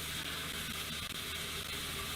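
Steam locomotive in the Minecraft Immersive Railroading mod, a loud continuous hiss of escaping steam with a faint low rumble underneath, close and steady throughout.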